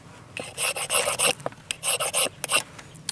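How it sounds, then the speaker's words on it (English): Pure resin stick having its sticky coating scraped off with a blade, a series of close, loud rasping strokes in bursts with brief pauses, no talking. "And we'll clean off some of the coating."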